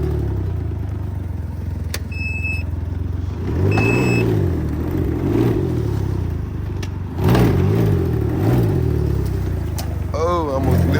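A 2025 Can-Am Ryker three-wheeled motorcycle revs repeatedly while being ridden around a house, its close mid-pitched engine surging and falling in several waves, with someone talking at times over it.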